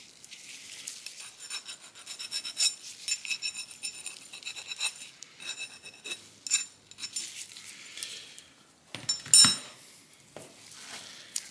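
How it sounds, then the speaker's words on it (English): A hand file rasps around the cut edges of a steel brake line for a 1973 Impala, making faint, quick repeated scraping strokes with light metallic clinks, close and quiet. "I'm gonna take my file and just kind of just go around the edges to make sure they're nice and smooth"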